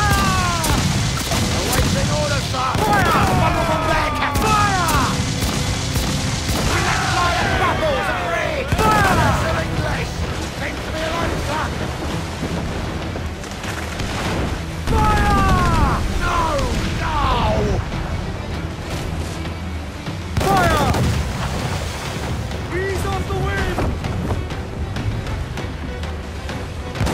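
Pirate ship cannons in Assassin's Creed Black Flag fire in repeated heavy booms and volleys during a loud naval battle, mixed with crashing impacts and shouting voices.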